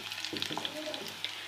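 Hot cumin tempering sizzles as it is poured over garam masala for a curry, a short, quiet, crackling fry with no talking.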